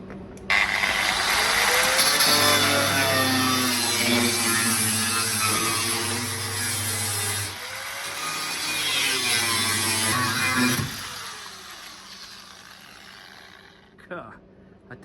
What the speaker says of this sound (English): And just grind it back and see how it looks.